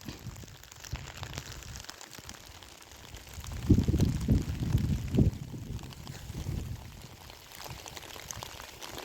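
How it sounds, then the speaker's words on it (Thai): Rain falls steadily over a reservoir where people fish from a small boat, a continuous broadband patter with a louder, denser burst in the middle, no talk. "ฝนตกครับฝนตก"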